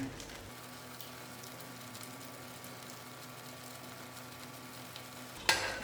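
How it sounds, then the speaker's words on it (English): Paneer makhani curry being mixed around in a pan, garnished with fresh coriander, giving a steady soft stirring and light sizzle throughout, with a brief louder clatter near the end. "Just mix this around."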